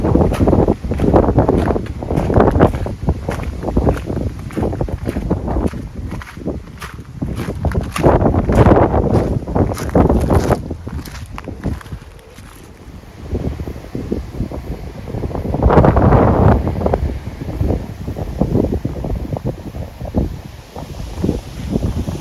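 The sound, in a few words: strong wind blowing in English garden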